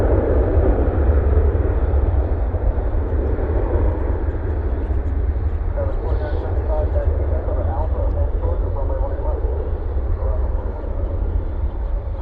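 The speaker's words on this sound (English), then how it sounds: "Here goes this 737-800 off to Fresno." A Boeing 737-800 departs DFW airport at night, a loud, sustained jet engine roar holding steady at a distance with a low rumble, continuing throughout alone without talking.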